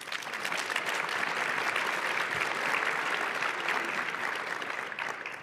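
Warm applause fills a healthcare conference plenary hall for panelists taking the stage, a continuous, even clatter of many hands heard from a moderate distance, tapering softly near the end.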